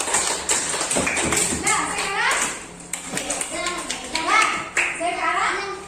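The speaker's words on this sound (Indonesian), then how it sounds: "Coba kasihkan tepuk tangan untuk kelompok satu." Children in a classroom clap for the first group, scattered and uneven hand claps mixed with lively kids' chatter and a teacher's voice throughout.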